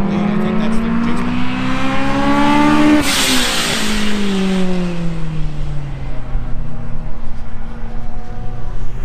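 Race cars at an open track day roar and rev loudly on a track, engine pitch rising and falling as one passes close by, with voices faintly underneath.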